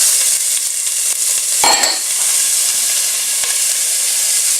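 Onion and carrot fry in a hot pan for a spicy dhal soup, a loud, continuous close-up sizzle broken by one brief clatter of stirring partway through.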